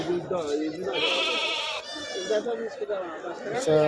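Rams bleat repeatedly at a busy livestock market, loud wavering calls overlapping one another, with people talking in the background.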